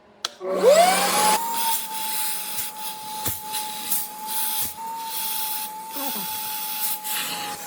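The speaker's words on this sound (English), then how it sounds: "Now the vacuumer." A carbon-cleaning machine's vacuum runs on an Audi EGR valve, giving a steady close hiss and whine with a rising tone at the start, punctuated by a few soft knocks and rubbing noises.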